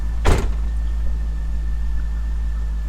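Door of a C5 Corvette swung shut from ajar, a single close thump near the start, followed by a steady low idle hum and a faint chime tone in a garage.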